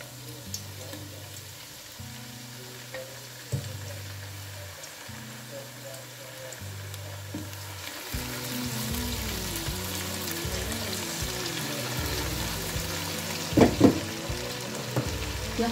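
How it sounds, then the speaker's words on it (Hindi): Two tablespoons of ginger garlic paste frying with browned onions in a pan, a soft sizzle that swells louder and busier midway, with stirring clinks, while someone talks over the top. "2 टेबल स्पून यहाँ मैं अदरक लहसुन का पेस्ट डाल रही हूँ।"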